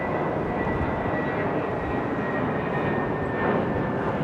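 Airplane landing at London Heathrow Airport, a steady, loud broadband jet roar with a faint whine, continuous and unchanging throughout with no talk.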